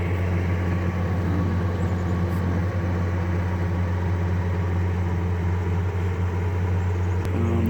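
An original 1971 Chevelle six-cylinder engine idles steadily and close by, a continuous low rumble with a smooth, even drone throughout and a faint click near the end.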